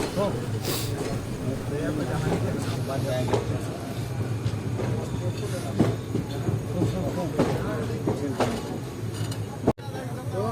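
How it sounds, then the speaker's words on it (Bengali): Mayurakshi Express passenger train rolling along rails, a continuous rumbling drone with faint rhythmic clacks and occasional sharper knocks heard from inside the carriage, steady and moderately loud, with no voices. "আমাদের ট্রেন ছেড়ে দিল গ্রাম রেল স্টেশন থেকে"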